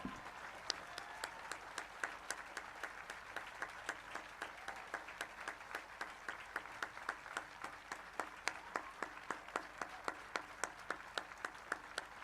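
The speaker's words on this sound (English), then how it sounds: "we have a thunderous, loud round of applause for these two incredible women, Gina Pellettiere and B. Ferrari." Steady, sustained audience applause at a school memorial celebration of life, dense crowd clapping with sharp individual claps standing out, continuous and fairly distant throughout.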